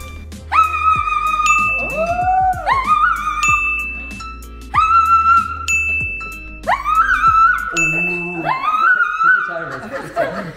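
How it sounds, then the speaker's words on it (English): A piano app on a phone plays a few single notes that ring out in clear, bright tones, with short pauses between the phrases and a voice or singing faintly mixed in. "I gotta go download a piano on my phone"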